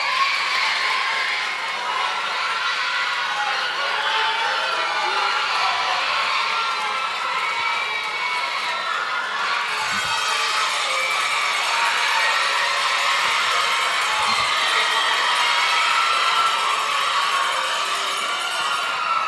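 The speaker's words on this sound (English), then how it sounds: "We can give the students a round of applause thus far." A crowd at a youth tourism congress applauds students, giving long, steady applause with cheering and children's shouts that hold at an even level for nearly twenty seconds, with no breaks.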